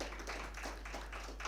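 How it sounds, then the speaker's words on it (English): Applause from a seminar audience welcoming panelists onto the dais at a film-industry panel discussion, a faint, steady patter of clapping hands without any break. "So I welcome my panelists with a big applaud."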